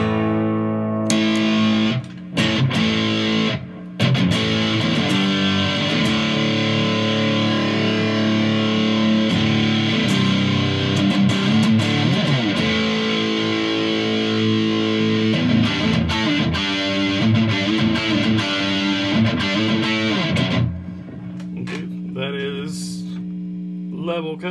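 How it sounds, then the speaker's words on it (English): An electric guitar plays through a Donner Morpher distortion pedal, with sustained fuzzy chords and riffs ringing out, then a clean hum as notes fade. "it's actually not a bad sounding distortion pedal"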